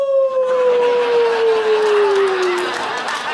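A man imitates a long wolf howl as a stand-up comedy bit: one sustained, slowly falling wail over a steady crowd murmur.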